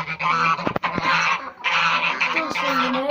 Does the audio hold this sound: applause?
no